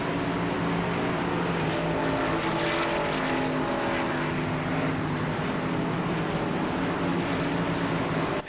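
Race cars circle the South Boston track in a sim racing game, a continuous loud engine drone with layered humming tones and no pauses.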